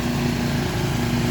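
A riding lawn mower engine runs steadily up close, a continuous loud mechanical drone with no breaks and no voices.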